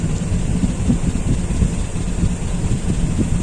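Strong wind gusts steadily, giving a continuous low, rumbling roar that buffets the microphone at constant loudness. No voices are heard.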